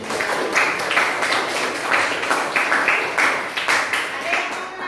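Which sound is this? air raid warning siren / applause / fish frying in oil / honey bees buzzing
applause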